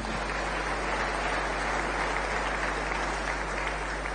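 Church congregation applauding in a steady, dense wash of clapping that fills the space evenly from start to finish, with a low electrical hum beneath.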